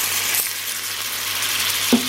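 Warm water poured into a hot pan of frying dumplings sets off a steady, close broadband sizzle that holds throughout, with a brief clink of the pan near the end; no voices.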